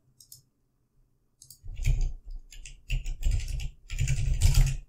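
A computer mouse clicking and a keyboard being typed on at close range, isolated clicks first, then dense clattering bursts of keystrokes with short pauses between.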